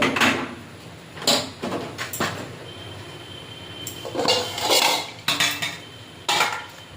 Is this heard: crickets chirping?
no